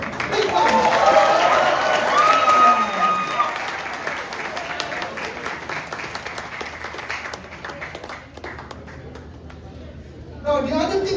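Audience at a conference event claps loudly in a dense burst that gradually thins out, with voices and cheering mixed in, then a fresh swell of clapping near the end.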